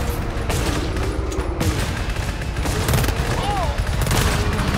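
A sentry turret in the GTFO video game fires rapid, sustained bursts, loud and dense throughout, while voices talk over the shooting.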